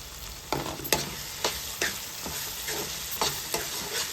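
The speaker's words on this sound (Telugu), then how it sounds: "ఇవి కూడా రెండు నిమిషాలు ఈ ఆయిల్లో మగ్గాలి" Jackfruit seeds fry in oil with ginger-garlic paste, a steady hiss under repeated spatula scrapes and taps against the pan, close and fairly quiet, with no voices.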